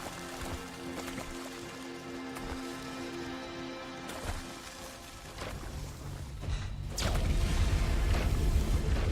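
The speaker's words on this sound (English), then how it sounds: "Suddenly, explosions." Explosions go off in the Fade to Silence video game: scattered muffled booms build into a heavy, sustained low rumble toward the end.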